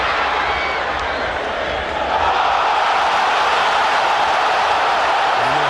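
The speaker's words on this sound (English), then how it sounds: "And the Haitian crowd going wild." A Haitian crowd at a football match between the USA and Haiti roars in a dense, continuous wash of cheering and whistling that swells louder partway through.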